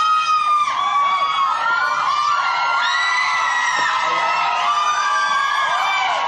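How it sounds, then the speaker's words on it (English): A loud studio audience screaming and cheering continuously at a talk show interview with Justin Bieber, high-pitched shrieks and whoops overlapping throughout, close and dense. "A little screaming there."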